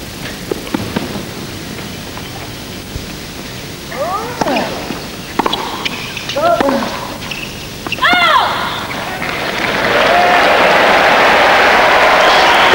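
A crowd at the 1999 Australian Open men's tennis final breaks into applause that builds into a loud, dense roar of clapping, with commentators talking over the crowd noise before it swells.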